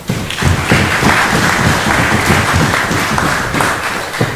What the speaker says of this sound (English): I believe they deserve a round of applause individually